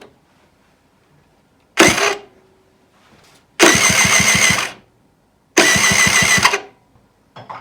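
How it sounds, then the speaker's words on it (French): A Yamaha TZR motorcycle's starter motor cranks the engine in three separate bursts, each a loud rapid whirring churn lasting about a second, with silence between tries and no running engine catching. "On va pouvoir essayer le démarreur."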